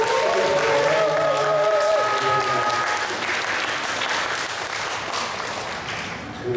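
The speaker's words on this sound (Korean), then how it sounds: "우리 크게 한번 박수 한번 쳐주세요" Loud, sustained applause from an audience at a product lecture fills the whole stretch while some tonal music plays under the first few seconds. The clapping stays even and crowded before easing slightly near the end.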